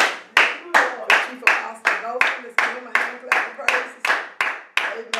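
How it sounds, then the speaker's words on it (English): Church congregation clapping hands in praise, a steady rhythmic series of about fourteen sharp, loud claps at an even tempo, close and ringing slightly in the room. "Another hand clap of praise."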